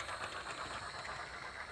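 A Hornby toy train set runs at its top speed, a steady, close rattling whir with faint rhythmic clicking along the track for the whole stretch, no voices over it.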